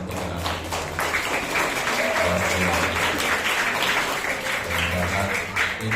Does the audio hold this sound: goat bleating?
no